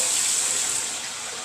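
Water gushes steadily from a hose into a tank, a close, continuous hiss that holds level and then eases slightly toward the end.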